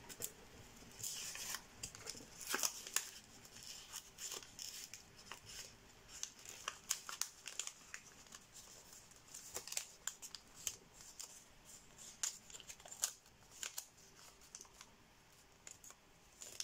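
Paper for an origami angelfish is folded and unfolded, making soft crinkles, creases and brisk rustling swishes in irregular bursts. The sounds are close but very quiet.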